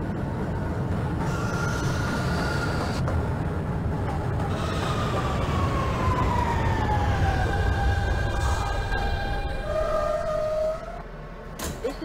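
A Manhattan-bound J local subway train in the OpenBVE simulator runs with a steady low rumble and rising, sliding motor whines, fading slightly at the end.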